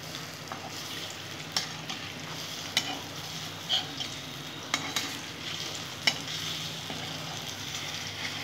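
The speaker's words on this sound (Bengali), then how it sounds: "সুন্দর করে আমি কোপ্তা কারিগুলো ভেজে নেব বন্ধুরা।" Kofta balls fry slowly in oil for a pepper kofta curry, giving a continuous soft sizzle with occasional light taps and scrapes of a stirring spoon; no one talks.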